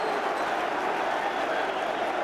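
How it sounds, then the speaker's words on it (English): A big crowd roars in a football stadium during Chelsea v Manchester United, a dense, steady wash of cheering that holds at even loudness throughout. "And the big crowd really enjoying that one."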